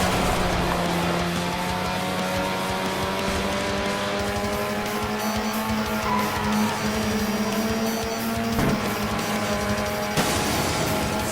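A car in the video game Heatwarped drives with a loud, sustained engine drone whose pitch climbs steadily, breaks sharply near the end as it shifts, then resumes, with hints of tire noise underneath.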